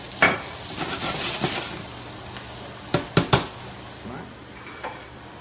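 Vegetables frying in olive oil for a hash give a steady close sizzle, with a few sharp clacks of a utensil against the pan near the end and no talk.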